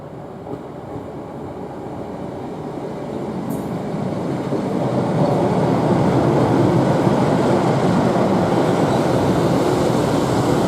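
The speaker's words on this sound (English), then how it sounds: "Now we're going to catch the Class 156 Lincoln-bound train to Loughborough from platform 4." A Class 156 diesel train bound for Lincoln via Loughborough, heard from platform 4, gives a steady low rumble that slowly grows louder and fuller, with no voices.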